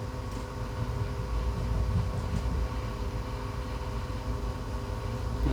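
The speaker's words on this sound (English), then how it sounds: "We are crossing the Oka-Ernakulam Express here" Steady broadband rumble and rushing noise of the Oka-Ernakulam Express passing close by on an adjacent track, heard from inside a moving train, continuous and fairly loud throughout with no voices.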